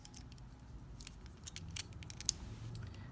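A Bakugan Battle Planet toy folded up by hand, faint plastic clicks and snaps in a loose sequence, one sharper click standing out, close and quiet with no talking.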